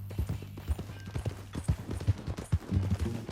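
Irregular clip-clop of horse hooves on hard ground in the video game Red Dead Redemption 2, fairly close and moderately loud, with a faint whinny-like tone mixed in.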